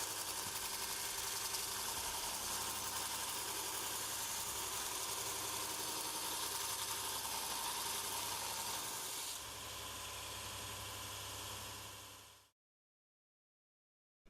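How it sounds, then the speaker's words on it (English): A woodturning tool being sharpened on an abrasive belt sander set to 45 degrees with a V-block, producing a continuous loud grinding whir that drops slightly partway through and then stops, leaving silence. "using the V-block, sharpen the tool until all the flat surface has gone"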